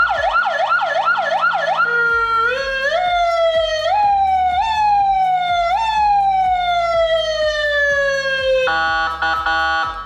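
Custom Mercedes Zetros ride-on toy siren, loud and close, cycling through modes: a quick wailing yelp, then long rising-and-falling sweeps, ending in a rapid warbling tone, with faint clicking underneath.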